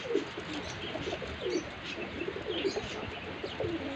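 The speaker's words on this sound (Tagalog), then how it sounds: "Bye-bye mga kalapati." Pigeons coo softly and repeatedly against a steady outdoor background, their low murmuring calls overlapping throughout with a few faint chirps mixed in.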